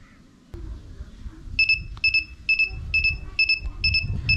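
An LG remote being paired gives a run of short, bright electronic beeps in a steady rhythm over a low background hum, starting after a soft click.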